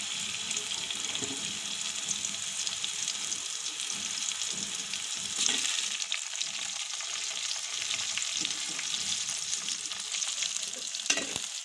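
Garlic paste and chopped tomato frying in a pan after browned onions, a constant close sizzle with scraping stirring strokes and a few sharper knocks of the utensil, no talking.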